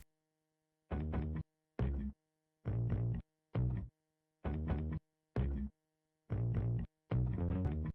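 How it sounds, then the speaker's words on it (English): Programmed bass notes on a keyboard for a live looping arrangement of a song, eight short, punchy, distorted bass hits of varying pitch, each separated by silence, played in an uneven pattern. "Basically, you're programming 7 different keys to have different bass sounds."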